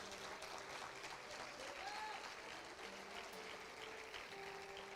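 A church congregation claps together in praise of Jesus, a faint, steady patter of many hands lasting several seconds without pause, heard from some distance.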